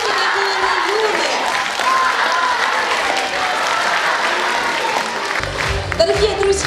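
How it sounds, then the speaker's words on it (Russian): Theatre audience applauding at the season finale of a ballet concert series, a dense, steady wash of many hands clapping throughout, with music entering near the end. "Дорогие друзья, искупайте в аплодисментах, не скупитесь"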